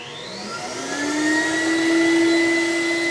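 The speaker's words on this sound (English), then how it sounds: "we're going to suck the fluid out. It's going to go through the filter into the tank" A battery-powered CECOR Sump Shark SD15 fluid extractor pump whirs steadily as it sucks fluid through a filter into its tank, a close, loud motor drone that rises slightly in pitch and volume and then holds.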